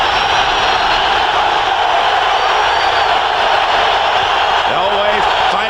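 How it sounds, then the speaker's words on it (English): Stadium crowd at a 1997 Denver Broncos at Pittsburgh Steelers football game, a loud continuous roar filling the background while a commentator talks over it. "Elway fighting the noise of the crowd."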